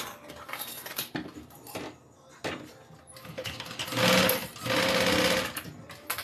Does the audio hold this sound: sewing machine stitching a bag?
yes